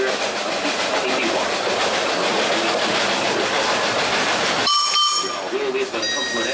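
Sugar cane train on the Barbados railway, a line dating from 1881: a steady, loud rolling rumble and hiss of the running train, with sharp high whistle-like tones near the end.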